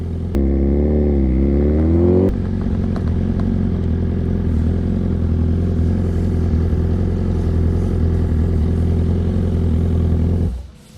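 A Benelli TRK 502 motorcycle engine idling close by with a deep, steady rumble after a brief revving rise at the start, running evenly until it cuts off near the end, no talking.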